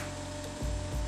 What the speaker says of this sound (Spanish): estamos cortando aquí unas tiras de ash o